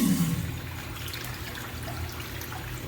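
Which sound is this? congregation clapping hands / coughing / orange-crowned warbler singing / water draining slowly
water draining slowly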